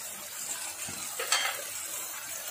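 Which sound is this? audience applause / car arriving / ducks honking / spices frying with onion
spices frying with onion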